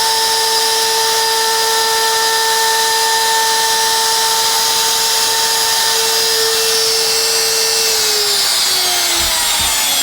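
Router carving a wooden sign, a steady high-pitched whine with strong tonal harmonics running continuously and then winding down near the end as the tool is shut off.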